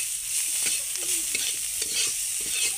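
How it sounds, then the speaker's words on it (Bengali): Dried fish and tomato chutney ingredients fry in a pan with a steady, close sizzle, while a spoon stirs and scrapes through them in scattered knocks across the whole stretch. "2 মিনিটের মতন এরকম ভেজে নিলে হবে"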